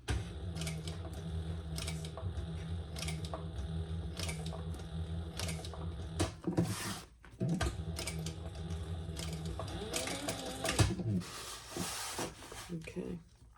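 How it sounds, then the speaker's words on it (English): Sewing machine back stitching: quiet, rapid mechanical whirring and ticking in short runs that pause and restart, with a voice speaking over it. "We'll just start and go up the sides. And I'm gonna back stitch here."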